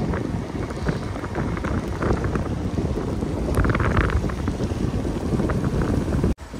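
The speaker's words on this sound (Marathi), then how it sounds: "पाऊस चालू झालेला आहे." Rain falls on a windy day near a forest waterfall about 120 km from Mumbai. Rushing wind buffets the microphone in loud, continuous gusts over a constant wash of rain, with no talking.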